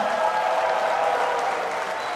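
Ballroom audience bursts into steady cheering and clapping right after a countdown, a dense, sustained wash of applause that carries evenly throughout.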